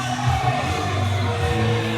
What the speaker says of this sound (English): Now here come the cheers.